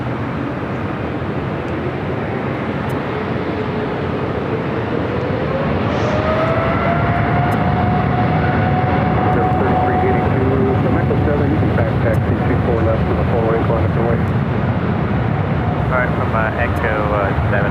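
A United heavy jet airliner takes off from runway 24 left at LAX: a loud, steady jet roar fills the whole stretch, with a rising engine whine that swells midway, and radio chatter running over it.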